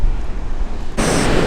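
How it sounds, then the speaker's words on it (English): Gusty wind roars across the microphone on the beach at Vivon Bay, with a broad wash of surf beneath it that swells louder and brighter halfway through and stays steady to the end. "Kind of windy right here."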